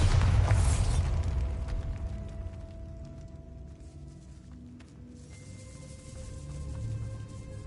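A Bombarda blasting spell explosion in Hogwarts Legacy, a loud booming burst up front that decays into rumbling debris and faint mechanical tones, with a tonal hum rising near the end.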